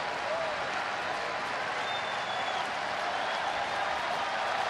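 A baseball crowd at a Phillies home game applauds and cheers steadily as fans rise to their feet, a dense, continuous wash of clapping heard from a distance.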